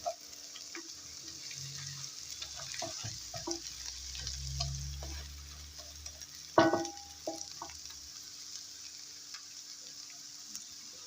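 Madımak greens and tomato paste sauté in a pan with a steady frying sizzle, broken by scraping stirs and soft knocks of a utensil, plus one sharp clank partway through; close, with no voices.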